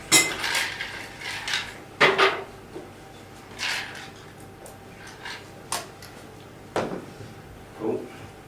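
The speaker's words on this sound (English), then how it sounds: "Just a nice quick stir because that's going to dilute it hopefully enough already." A bar spoon clinks and rattles against a glass while a cognac sidecar is stirred briefly during a cocktail competition, giving a series of sharp metallic taps spaced irregularly with quiet gaps between.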